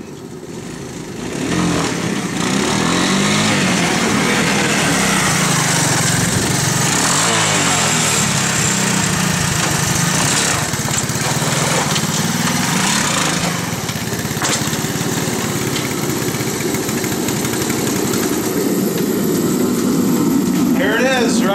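Honda ATC 185 three-wheeler fitted with a wheelie bar, its small engine starting up and then buzzing loud and steady while being ridden in wheelies around a yard, with voices talking over the motor.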